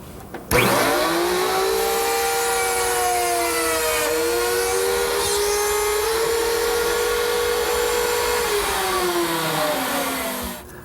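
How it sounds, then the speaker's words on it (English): A drill bores a screw hole through wood held in a pocket hole jig, its motor whine steady and loud for about ten seconds with pitch dipping and rising under load, then winding down; no talking. "there is a drill which cuts the hole, or drills the hole for the screw"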